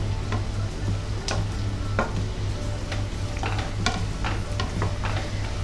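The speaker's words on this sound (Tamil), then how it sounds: "இதோட பச்சை வாசனை போகிற வரைக்கும் வதக்கிக்கோங்க" Onions with ginger garlic paste sautéing in a pan for a white egg kurma, a steady low sizzle under repeated sharp scrapes and clacks of a spoon stirring, close and continuous, with no talking.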